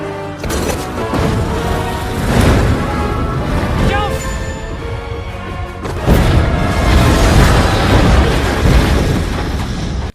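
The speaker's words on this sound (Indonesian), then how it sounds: "membakar menara kincir tersebut hingga meledak" Windmill tower burning and exploding in a film scene, with loud booming blasts, crashing debris and a dense roar over the whole stretch, and a second surge of explosions partway through.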